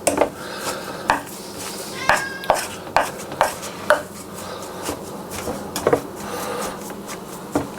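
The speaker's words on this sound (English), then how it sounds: "I think the cat wants something to eat" A cat meows for food in a home kitchen where a skillet meatloaf is being made, short meows mixed in with loud clattering of dishes, pans and utensils and sharp chopping knocks.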